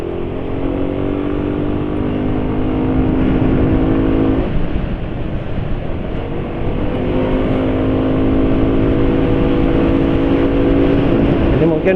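Motorcycle engine running steadily with a rough, droning tone and an uneven filter sound, close and continuous, revving slightly partway through.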